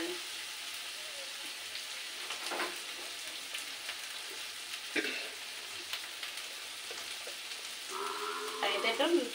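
Potato chunks and vegetables sauté in hot oil for a brinjal, prawn and potato curry, a steady soft sizzle with occasional stirring clatter and louder crackles near the end.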